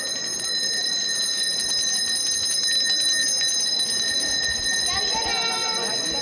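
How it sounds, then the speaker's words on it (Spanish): A small hand bell, the esquila, rung during a Holy Week procession in Cáceres, bright high metallic peals over a steady outdoor crowd murmur, with a ringing burst near the end. "Ya viene, suena la esquila"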